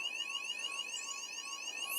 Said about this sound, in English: the alarms have all gone off, and they were off when I arrived